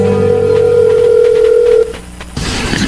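A telephone rings with a sustained electronic tone that cuts off abruptly, followed by a short pause and then a burst of noisy rustle or handling sound.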